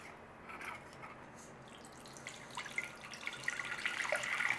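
A faint, thin trickle of water pours into a small bowl of cornflour for a slurry, growing slightly louder and splashier toward the end in a quiet kitchen.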